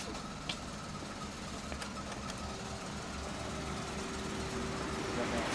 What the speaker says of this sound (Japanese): エンジン音聞かせて